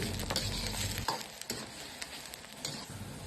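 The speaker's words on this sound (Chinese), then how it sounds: "这时候可以开大火熬制，先熬出猪油里边多余的水分" Pork lard renders in a pan over high heat after a splash of strong baijiu, giving a close, steady frying sizzle with intermittent stirring scrapes and crackles and no talking.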